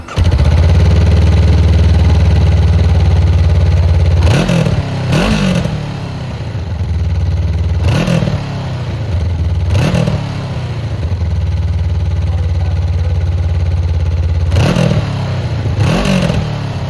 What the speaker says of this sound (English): Powering this NX500 is a 471cc liquid-cooled 18-degree parallel twin with double overhead cam, 4 valves per cylinder